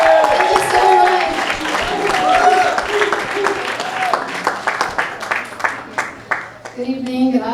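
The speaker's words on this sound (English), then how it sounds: "Give a round of applause." Audience at a fundraiser for George Floyd's foundation in Los Angeles applauding Ms. Floyd, a loud, full burst of clapping with crowd noise that thins into scattered claps, with a voice speaking over it near the end.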